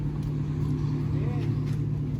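A car pulls up onto a driveway, its steady engine rumble close and continuous throughout, with no voices over it.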